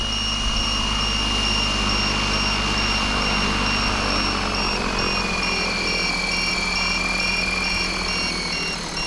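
A high-pitched electric motor of an Align T-Rex 700E RC helicopter whines loudly and steadily with a rotor drone, pitch dipping slightly midway as it spins nearby on sandy ground.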